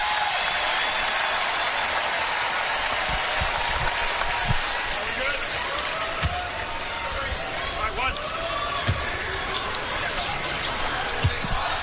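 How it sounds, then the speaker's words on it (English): Arena crowd at an NBA game between the Oklahoma City Thunder and Minnesota Timberwolves applauding a player heading to the bench, steady clapping and cheering under commentary, with occasional thumps and shoe squeaks from the court. "An ovation from the crowd."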